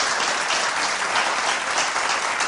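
A studio audience claps in a dense, even burst of applause for a guest teacher on a teen talk show, close and sustained without any voices.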